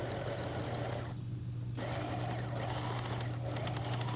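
A home sewing machine stitches a sun dress seam, its motor whirring steadily and close throughout, easing off briefly near the middle before carrying on at an even pace with no voices.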